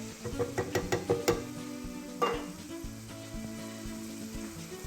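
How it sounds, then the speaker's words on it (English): Aubergines and tomatoes fry in a pan with a steady sizzle, broken early by several quick knocks of a utensil against the pan and a louder scrape partway through. "So these aubergines have been cooking for 3 minutes and that's enough for now."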